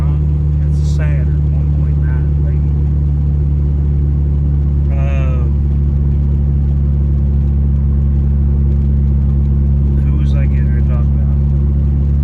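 Saturn race car engine at a race event, a loud, heavy, steady low drone that barely changes, with voices chatting over it.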